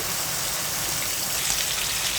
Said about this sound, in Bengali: বাহিরে প্রচুর বৃষ্টি হচ্ছে বন্ধুরা